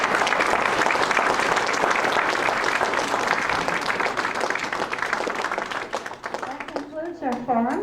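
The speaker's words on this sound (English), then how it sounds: "And now you can applaud." An audience at the close of a county candidate forum breaks into loud, continuous applause mixed with clapping, thinning slightly near the end as a voice briefly cuts in.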